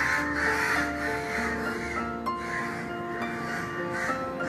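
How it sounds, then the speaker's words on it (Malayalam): Many crows caw all around, repeated harsh calls overlapping from near and far in a steady chorus at moderate loudness. "ചുറ്റിലും കാക്ക."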